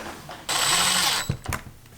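A screw is driven into a DIY flat-bottom steering wheel during assembly, a close, loud whirring grind of about three-quarters of a second followed by a couple of sharp clicks and taps.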